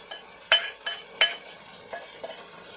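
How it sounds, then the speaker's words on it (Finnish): Marinated chicken in a pan for chicken tikka masala gives a faint, steady sizzle, broken by two sharper scrapes of stirring near the start and a few softer clinks later, with no voices. "Sitten lisätään marinoidut kanat."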